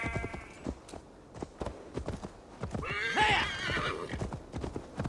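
A horse in the Assassin's Creed Valhalla video game clip-clops along at a steady walking rhythm, hooves thudding close by, then lets out a clear whinny midway while the hoofbeats continue.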